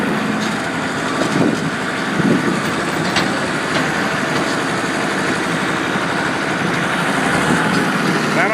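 A Kubota M4050 two-wheel-drive full-size tractor runs in high gear reverse, its engine a steady, loud, continuous drone close by with a few faint knocks and no talk over it.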